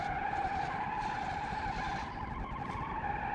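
A battered, barely drivable car skidding and sliding downhill in BeamNG.drive, a continuous faint tire squeal and scrubbing drone with no break.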